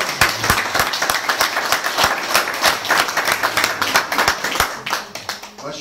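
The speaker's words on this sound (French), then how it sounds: "Je crois qu'il faut applaudir encore plus fort." Audience applause at a Picard-language literature prize ceremony, a dense patter of hand claps with some sharper individual claps standing out, steady and close throughout with a faint voice underneath.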